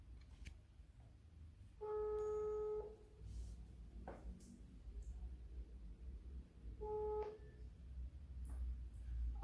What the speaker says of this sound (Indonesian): Apa aku telepon Yulia aja ya?